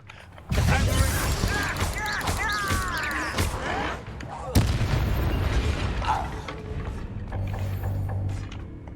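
Confringo spell cast in the video game Hogwarts Legacy, a sudden explosive blast followed by rumbling, creaking and clattering game effects, with another impact midway; loud and close.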